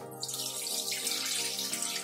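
A steady stream of milk pours continuously into a metal pressure cooker, a bright, close splashing rush with no voices.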